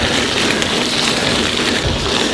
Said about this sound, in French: Cette pluie était annoncée.